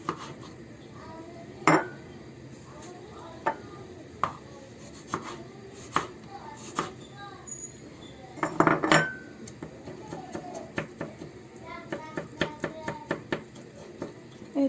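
A knife chops tomatoes into small pieces on a board, giving irregular sharp taps with a dense burst of quick cuts near the middle and a rapid run toward the end, over a faint background hum.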